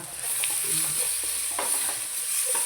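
Tomato masala frying in a pan with salt and spices, a steady close sizzle with soft scraping stirs running throughout, no voices.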